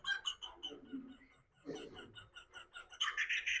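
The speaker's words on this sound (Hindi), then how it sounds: "ये जो कुकाबरा पक्षी है, ये अपनी हंसी के लिए जाना जाता है" A recorded kookaburra call plays at low volume, a rising and falling run of cackling, laughing notes that climbs into a busier burst at the end, with faint voice-like sounds mixed in.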